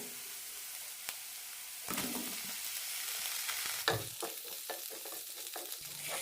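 Potatoes stir-frying in a masala with green chillies in a pan, a steady close sizzle with intermittent scraping stirs of a spatula building in the second half.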